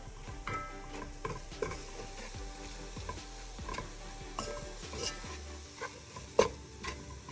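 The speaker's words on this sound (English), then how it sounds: "I'm now going to mix that all together for a few minutes." Food sizzles gently in a pan while a utensil stirs and scrapes, with soft irregular clinks and taps against the metal.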